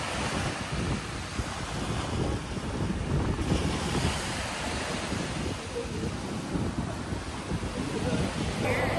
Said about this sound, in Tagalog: Ang lakas na hangin dito,